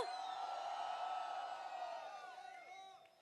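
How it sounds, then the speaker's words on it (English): An audience at an Avengers Endgame press conference and fan meet cheers and whoops in a loud, sustained crowd roar that gradually fades, with voices mixed into the din. "Let's give him another round of applause for being here."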